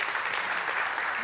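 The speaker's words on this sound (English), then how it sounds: "Big applause to Giuseppe." Audience applause at the South Summit 2023 TNBT stage winner announcement, a dense, steady wash of many hands clapping throughout with no voices standing out.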